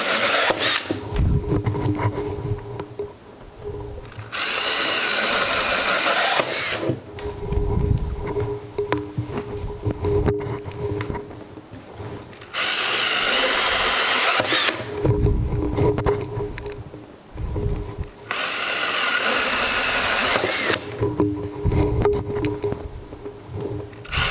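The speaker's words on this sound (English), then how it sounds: "I'm using the 1/2-inch spade drill bit." A drill with a half-inch spade bit bores into water filter buckets in several long bursts, its motor whining and grinding with pauses between runs over a steady background hum.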